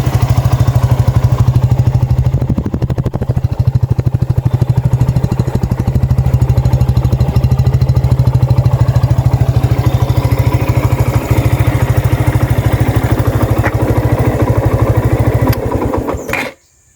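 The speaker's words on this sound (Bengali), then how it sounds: "তবে আমি আপনাদেরকে কাছ থেকে শোনানোর চেষ্টা করতেছি ইঞ্জিনের আওয়াজ ঠিক এরকম।" A Suzuki Gixxer FI ABS motorcycle, 2023 new model, runs steadily close up with a loud, even engine drone that holds for most of the span before cutting off abruptly near the end.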